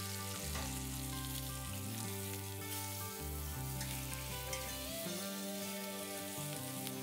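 Meat frying in oil while making chili verde, a dense continuous sizzle and crackle with low clattering pan knocks throughout, fairly loud and close, no talk.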